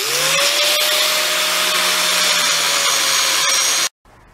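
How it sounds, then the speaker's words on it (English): An angle grinder grinding down a metal plate on a Lawn Boy mower during a gear-skipping repair, a loud steady high whine with gritty rasp that cuts off abruptly near the end. "Next you want to grind away some of that material so you got room for your weld"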